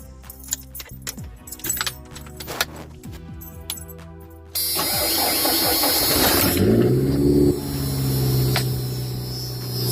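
1991 Ford Ranger with a bypassed clutch/neutral safety switch: keys jangle, the starter cranks briefly, then the engine catches and settles into a loud, steady idle with a revving rise near the middle.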